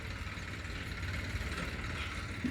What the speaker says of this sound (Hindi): तो दोस्तों आ गया ट्रैक्टर कालू राम जी का, उनका ड्राइवर लेकर आया है